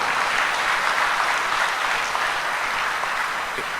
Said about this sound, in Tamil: தங்கைகள் இருவருக்கும் நம்ம அத்தனை பேரும் கைத்தட்டல் மூலமாக வாழ்த்துக்களை தெரிவிப்போம்